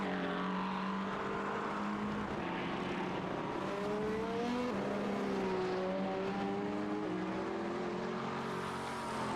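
Race car engine in a 24-hour endurance race at Le Mans, shifting down through gear steps as it brakes into the second chicane, a distant droning whine with falling and rising pitch, no talk.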